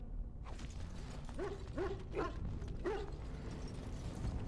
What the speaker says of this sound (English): I hear doggo.